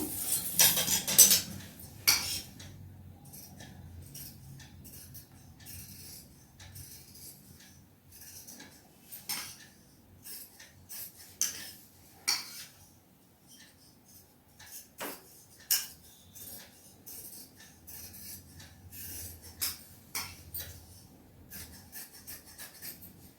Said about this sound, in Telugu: ఇప్పుడు బ్యాక్ పార్ట్ కట్ చేసేసుకుందాం